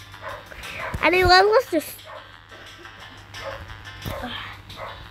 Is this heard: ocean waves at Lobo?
no